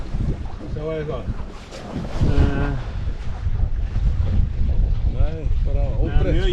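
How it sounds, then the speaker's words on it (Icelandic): Strong, steady wind roars across the microphone aboard a racing sailboat at an Icelandic championship regatta, with water rushing along the hull and people talking over the gusts. "Það er mjög jafn vindur sko."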